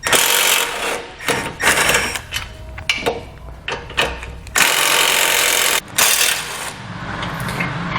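Bumper bolts on a 2019 Chevrolet Sonic being removed with a 13mm socket, heard as close, loud bursts of ratcheting and metallic clicking separated by short pauses, without speech.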